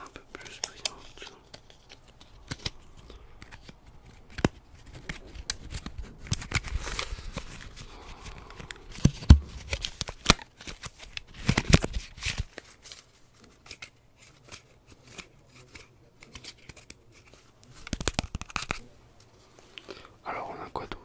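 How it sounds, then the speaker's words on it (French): Pokémon cards handled and shuffled up close in a quiet room, giving soft, crisp rustles and scattered sharp flicks in irregular bursts, with a faint whispering voice at times. "On va prendre ce paquet de cartes. On va voir s'il n'y a pas des bonnes cartes dedans."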